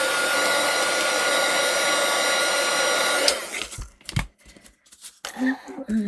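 A hair dryer blows steadily and loudly for about three seconds to dry paint on an art journal page, then cuts off, leaving scattered handling noises and brief rustles.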